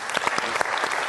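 A short burst of steady applause from an audience at an IBM Think 2019 technology conference session, a dense patter of many hands clapping together at an even level.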